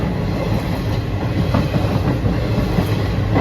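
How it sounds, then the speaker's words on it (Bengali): Another train passes close alongside the Sri Jagannath Express, producing a loud, steady rumble with rhythmic wheel clatter that continues without a break. "পাশ দিয়ে আরেকটা ট্রেনও যাচ্ছে।"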